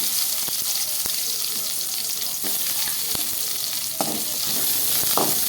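Onions frying in hot oil for mango kulambu, a steady loud sizzle throughout with occasional scrapes and clinks of stirring in the pan.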